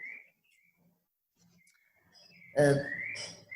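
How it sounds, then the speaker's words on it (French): Outdoor birdsong in Costa Rica: scattered thin whistles and chirps, faint and sparse in the background, followed by someone speaking close by. "avec les oiseaux qui sont derrière, c'est magnifique."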